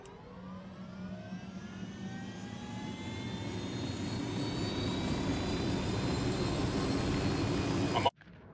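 A piloted aircraft in Ghost Recon Wildlands drones with a steady, loud engine roar that holds and builds slightly over several seconds, then cuts off abruptly near the end.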